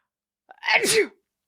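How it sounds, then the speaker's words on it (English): A single close, sharp sneeze, quick and explosive, in otherwise near silence. "I'm going to sneeze."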